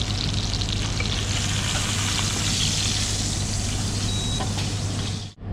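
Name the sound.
steak frying in a pan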